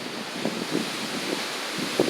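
Steady wind and surf along the Lake Erie shore, a continuous broadband rush with soft, irregular swells of water breaking close by, heard alone without voices.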